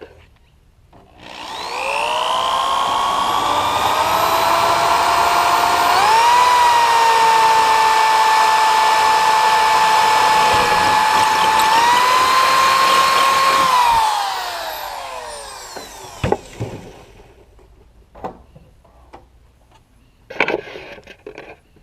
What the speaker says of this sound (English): So same thing on this side, you're going to drill all the way through.